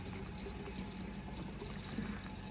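Liquid pours from an awkward dirt-bike style spout into a small tank, a steady close-up gurgling stream that runs without a break and with no talking.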